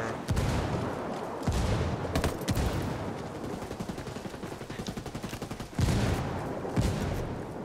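Mortar strike in the tactical shooter game Ghost War: heavy booms and blasts mixed with rapid gunfire, loud and close, forming a sustained barrage with several sharper impacts standing out.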